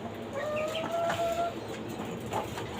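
Native and tiger chickens in cages on a five-storey rooftop farm, a few drawn-out clucks and calls from nearby birds over steady outdoor background noise.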